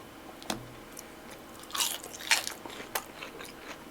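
Someone bites into fries dipped in garlic sauce, giving a few crisp crunches followed by soft, moist chewing sounds, up close and quiet, with no talk.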